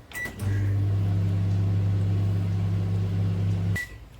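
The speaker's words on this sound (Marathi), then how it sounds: "आता हे ओव्हनमध्ये आपण ठेवूया" A microwave oven hums steadily as it melts cheese on a bread pizza. A beep sounds at the start, another sounds at the end, and the loud, close drone runs alone between them.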